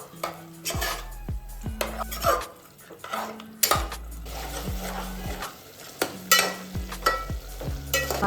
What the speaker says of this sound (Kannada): 2 ನಿಮಿಷ ಫುಲ್ ಫ್ಲೇಮಲ್ಲಿ ಇಟ್ಕೊಂಡು ಹಿಂಗೆ ಮಿಕ್ಸಿಂಗ್ ಮಾಡ್ಕೋಬೇಕು,